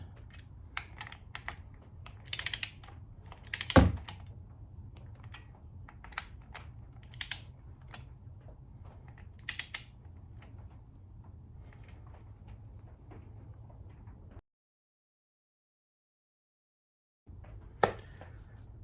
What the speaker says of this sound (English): We'll get them all snug first, and then we'll actually take them to torque.